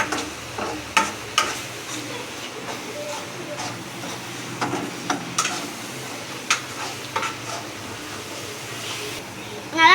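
Ground chilli masala paste is stirred in a pan for fish curry, a soft scraping and gentle sizzle with irregular clinks of the spoon against the pan, close, while someone talks over it.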